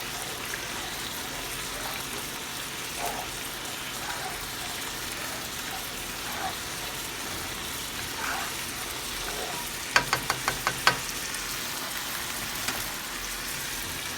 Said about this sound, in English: Now we're going to give it a nice little stir, just to make sure it doesn't all clump up.